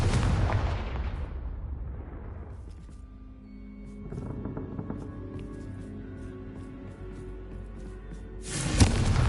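A Confringo spell is cast in Hogwarts Legacy: a loud booming blast that decays over a couple of seconds, then quieter game ambience with tonal effects, and a second sharp burst near the end.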